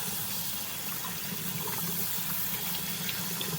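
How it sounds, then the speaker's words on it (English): Tap water gushes steadily over garlic cloves in a strainer, a close, continuous rushing splash that fills the whole moment without pause. "I went and dumped my garlic out into a strainer and just rinsed it off."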